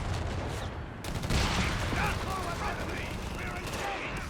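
Bazooka and other weapon fire in a Company of Heroes 3 2v2 match makes a dense, continuous barrage of loud gunfire bursts and blasts throughout, with possible voices mixed in.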